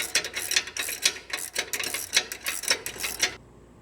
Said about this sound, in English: so I went and got my gear wrench